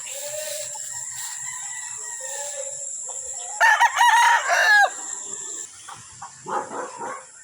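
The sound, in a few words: game fowl roosters crowing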